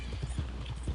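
Hooves clip-clop steadily as a horse moves across rough, hilly ground in a PS4 game, a rhythmic series of soft thuds heard alone at moderate level.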